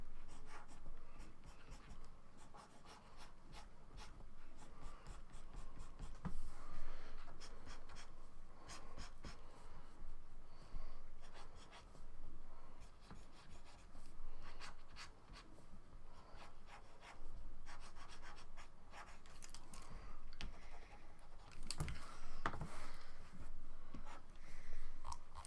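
Pencil or pen scratches and rubs across paper in a late-night drawing session, close and quiet, with continuous uneven strokes over faint room noise and occasional soft breaths.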